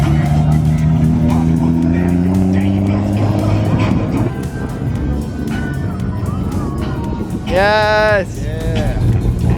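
At a large car show, a Nissan 350Z engine hums low and steady, with a brief rising rev near the end, while people talk briefly over it.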